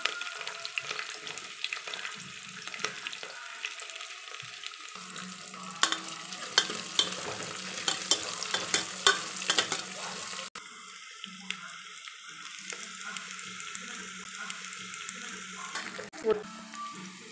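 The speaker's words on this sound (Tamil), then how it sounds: "இப்போ நம்ம வெங்காயம் சேர்த்துக்கலாம் சின்ன வெங்காயம் சேர்த்துக்கிடுவோம்" Small onions frying in oil for Tamil mutton kulambu, with a steady crackling sizzle and intermittent stirring scrapes and clinks, fairly close; the frying softens and thins in the last stretch.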